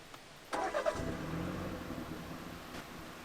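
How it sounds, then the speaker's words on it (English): A BMW 330i G20 set to Comfort mode fires up with a sudden start, then settles into a smooth, moderately loud idle that fades slightly and runs on alone. "So in Comfort, this is what the car sounds like."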